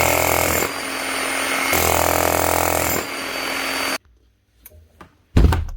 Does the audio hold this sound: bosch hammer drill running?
yes